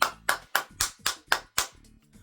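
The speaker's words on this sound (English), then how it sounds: "Round of applause, ladies and gentlemen." Seven sharp, evenly spaced handclaps ring out close and alone in a quick, steady rhythm, fading slightly at the close.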